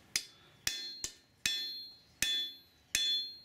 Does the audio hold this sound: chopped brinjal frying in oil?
no